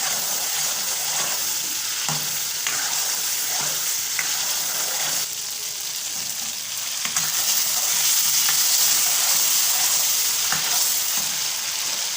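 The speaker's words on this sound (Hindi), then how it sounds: "हरी मिर्ची डाल के 5 से 6 इसको हम भूनेंगे" Mutton karahi with green chilies fries over high heat in a pan and is stirred repeatedly. A loud, continuous sizzle carries scraping stir strokes at irregular intervals, and no voices are heard.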